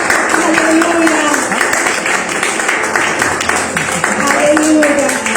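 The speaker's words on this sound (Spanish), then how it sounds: "te ofrendamos este fuerte aplauso" A church congregation claps together in a sustained burst of applause, dense and continuous, with voices calling out over it.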